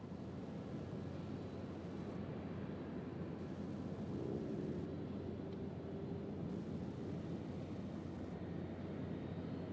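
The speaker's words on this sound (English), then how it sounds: "That 757's going to our favorite airport and yours, Windsor Locks." A Boeing 757 at Louisville UPS World Port gives off a steady, faint jet-engine rumble that stays low and constant, heard from a distance.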